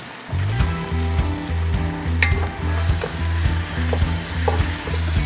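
Bear meat and brown sugar frying in bacon grease, a steady loud sizzle with a low rumbling hum beneath and occasional scraping stirs, close and continuous throughout.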